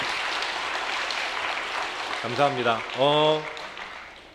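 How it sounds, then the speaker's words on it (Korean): Church congregation applauding during an afternoon worship service, a steady wash of clapping that fills the hall before a voice speaks briefly over it. "우리 3040 교구가 앞으로도 크게 부흥할 수 있도록 우리 박수로 격려해 주시기 바랍니다"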